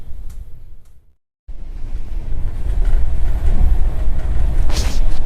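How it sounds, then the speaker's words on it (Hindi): The West Bengal Sampark Kranti Express rolls at speed near Naini while overtaking an LHB train, heard from on board as a loud, continuous rumbling roar that cuts out briefly, then returns and grows heavier. "यहाँ पे गाइस हम लोग किसी LHB ट्रेन को ओवरटेक कर रहे हैं नैनी पे।"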